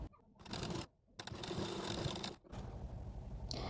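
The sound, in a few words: sewing machine stitching folded blouse fabric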